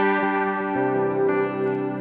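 An electric guitar through a clean amp with only a delay pedal rings out in sustained, shimmering chords that blend into echoing repeats, steady and fairly loud with no voice over it.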